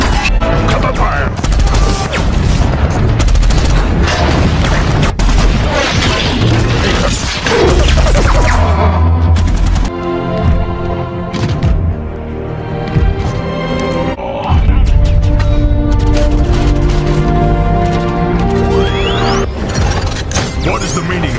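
A video game battle rages with dense, loud gunfire, bursts and crashing impacts layered over music and shouted voices, continuous and close for the whole stretch.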